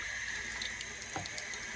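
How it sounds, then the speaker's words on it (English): Water poured from a tap into a hot drink to cool it, a steady close rush of running water, fairly quiet, continuing alone with no talk. "Hold on, I gotta add water to it."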